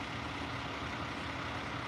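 A fire truck engine idling, a steady low rumbling drone with broad hiss that stays even and unbroken throughout.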